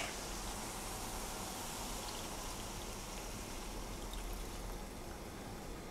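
Stock pouring into a pan of cottage pie meat filling with tomato puree and Worcestershire sauce, a steady, moderately loud splashing wash that runs unbroken throughout with no talking.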